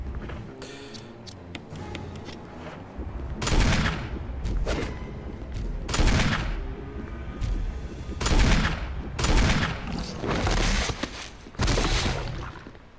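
Repeated gunshots from a self-defense handgun in the video game Resident Evil HD, a string of sharp, loud cracks fired in irregular bursts over a steady game soundscape.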